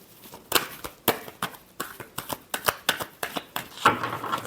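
Tarot cards shuffled by hand in a close, rapid run of crisp riffling snaps, about a dozen quick bursts in an uneven rhythm with no voice over them.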